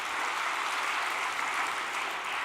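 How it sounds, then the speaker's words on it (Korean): A church congregation applauds in encouragement for an elder, a dense, even roar of many hands clapping together, sustained and steady without pauses or voices. "여러분 격려의 박수 한 번 더 보내주시기 바랍니다"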